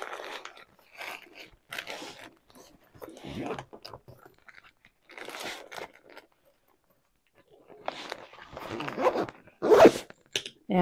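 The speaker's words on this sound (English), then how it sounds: "make sure it will close this way, so that way the zipper doesn't rip" Several short raspy zipping bursts from a zipper closing on a carry-on travel bag, some quick and some drawn out, separated by brief pauses, with rustling handling noise between them.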